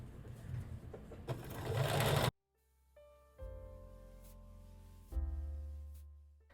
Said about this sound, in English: I just begin to sew again